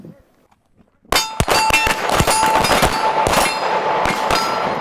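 Live-fire gunshots at a 2019 tactical combat casualty care training in Nashville, Tennessee strike steel targets in a quick irregular string of sharp cracks, each with a ringing metallic clang, loud and close after a short quiet start.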